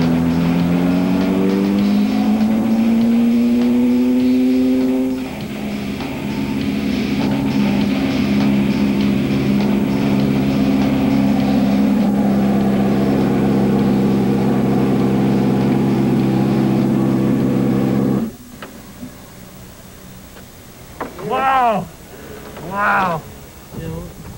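A 1997 racing car engine runs at high RPM. It is a loud, close droning roar that climbs in pitch, then holds steady for a long stretch before cutting away to brief voices near the end.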